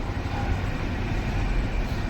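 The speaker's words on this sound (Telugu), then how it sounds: "ట్రైన్ వచ్చేసింది" The Pinakini train pulling into a station between Ongole and Nellore, a loud, steady broadband rumble of rolling carriages close by with no pauses.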